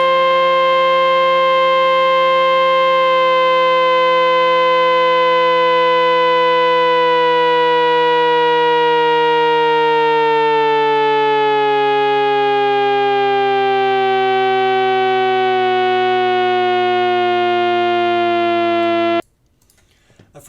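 An electric motor whines in a sustained harmonic tone as its voltage sweeps from high to low, the pitch sliding gradually downward for about nineteen seconds before cutting off abruptly into near silence.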